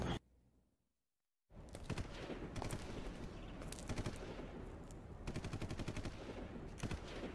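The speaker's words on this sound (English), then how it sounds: "Gunshots." Rapid bursts of gunfire in the video game Dead Rising crackle in dense volleys after a brief silence, sharp cracks stacking over a continuous roar of shots.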